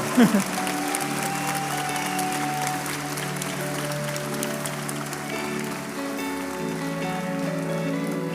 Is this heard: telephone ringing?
no